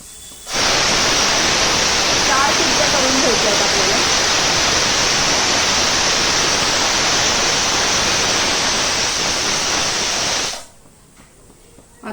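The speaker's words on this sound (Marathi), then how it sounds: "शिट्टी होईल आता कुकरची" A pressure cooker whistle releasing steam in a home kitchen while khichdi cooks, a loud, steady hiss that holds for about ten seconds before cutting off abruptly.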